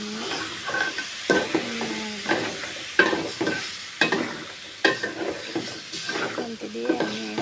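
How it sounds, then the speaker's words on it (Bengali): Potatoes frying for a rohu fish curry are stirred in a pan, giving a continuous hiss cut by repeated sharp scraping strokes of a spatula at irregular intervals, close up. "দিয়ে ভালোভাবে আমি নাড়াচাড়া করবো। এখানে আমি সম্পূর্ণ আলুগুলো দিয়ে দিলাম।"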